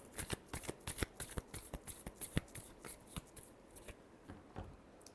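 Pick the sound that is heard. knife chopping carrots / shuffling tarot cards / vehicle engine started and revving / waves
shuffling tarot cards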